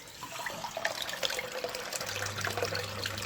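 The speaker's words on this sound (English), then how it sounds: "This is a flow meter to test the water rate of what the water's coming out at." Water runs from a tap into a flow meter, making a continuous splashing, gurgling flow at moderate loudness, with a low steady hum joining partway through.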